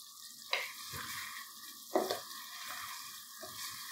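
Chicken fries on a high flame in a karahi, with a steady sizzle broken by a few sharp stirring scrapes and clatters. No voices are heard.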